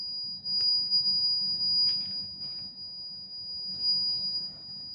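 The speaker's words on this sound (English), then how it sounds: "A buzzer will beep 5 seconds before the completion of time." A buzzer on an 8085-based cyber cafe management system gives a few short, thin high-pitched beeps at irregular intervals, faint over a low background hum with no talking.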